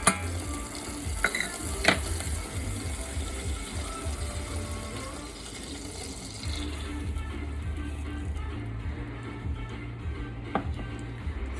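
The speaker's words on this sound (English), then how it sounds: "And you can hear it sizzling." Marshmallow square mixture sizzles steadily in a hot pan on a stovetop element, a continuous soft frying hiss with a few sharp clicks and stirring scrapes, close by and alone.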